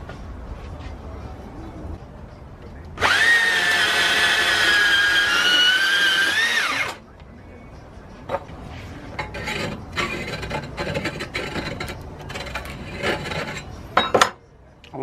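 Hand file rasping to deburr cut turbo piping on a K20A2-swapped Honda CRX, a loud continuous scraping for about four seconds, followed by quieter scattered clinks and handling noises.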